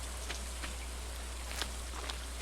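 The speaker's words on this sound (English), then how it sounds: "we're going to plant our spring seeds though while it's raining today" Rain in Stardew Valley, a steady soft hiss of falling rain with faint scattered drop taps over a low constant hum, no voices.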